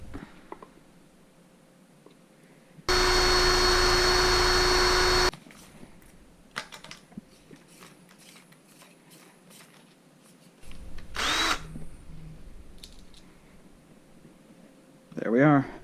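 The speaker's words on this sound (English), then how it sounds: "I'm gonna have to fucking drill it." A power drill boring out a stuck screw during brake and clutch work on an Interceptor runs in one loud, steady burst of about two seconds, then clanks and handling noises follow, with a second rougher burst later.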